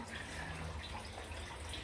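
Hot water runs from a kitchen tap as a steady, even wash of close, moderately quiet splashing noise with no break across the whole stretch.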